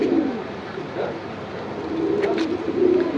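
Pigeons coo steadily at a busy bird market where pairs are sold, their low murmuring calls close and continuous over a background of crowd noise.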